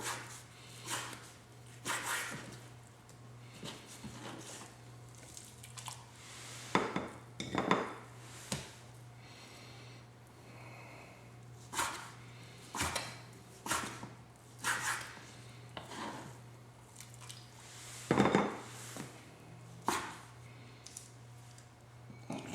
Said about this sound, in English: we're going to chop up our bacon